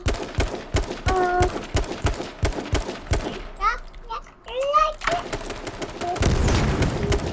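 Rapid bursts of gunshots in the video game H1Z1, loud sharp cracks in quick rhythmic volleys, pausing briefly while voices talk, then heavy firing resumes at the end.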